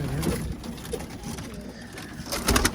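Pigeons in an office loft coop on a fine autumn day give soft, low cooing calls close by, mixed with light rustling and a few louder broadband bursts near the end.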